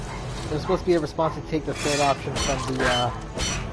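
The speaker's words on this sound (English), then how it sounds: "I apologize if you hear my dog barking in the background." A dog barks somewhere in the background of a home room, a few short yapping bursts sitting faintly beneath a man's steady, continuous talking.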